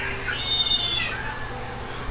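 A house cat lets out a single drawn-out meow, rising then falling, moderately close over faint room noise.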